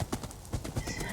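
Horse hooves clip-clopping in a video game, with a brief whinny mixed in, a quick uneven trot of several hoof falls close by with no talking.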